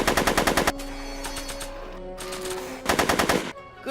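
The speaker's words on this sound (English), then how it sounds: "Are you shooting at me?" Rapid machine-gun bursts from the Back to the Future video game, loud and close, firing in three separate volleys with short gaps of ringing, tonal game sound between them and no talking.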